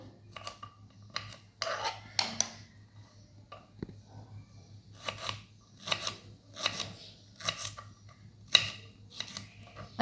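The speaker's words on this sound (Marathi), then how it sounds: "अशा प्रकारे मी छोट्या छोट्या तुकड्यामध्ये कट करून घेणार आहे।" A knife cuts fresh okra into small pieces on a board, with a steady series of crisp, close chopping taps in irregular bursts and no talking.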